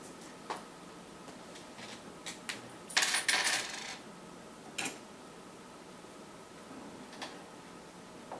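Small metal coins clink onto a lab scale in a quiet room, a few scattered ticks followed by a brighter jingling cluster, then sparse single clicks.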